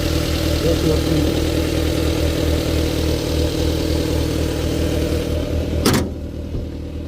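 A 2003 Maruti Wagon R with its engine in good condition idles with a steady low hum up close. A sharp click comes near the end, and the engine note drops slightly afterward.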